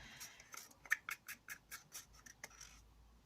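A stick scrapes across paper while acrylic paint is poured from a The Works Acrylic Pouring Art Set, making about a dozen quick, rhythmic, faint scratching strokes close up, with no talking.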